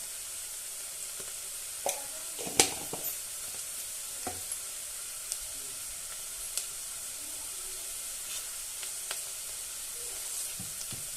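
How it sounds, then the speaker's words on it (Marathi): Onion frying in a pan with turmeric added, heard as a soft, steady sizzle with a few sparse clicks and scrapes, fairly quiet and without speech. "कांदा भाजलेला आहे त्यामध्ये आता हळद टाकायची"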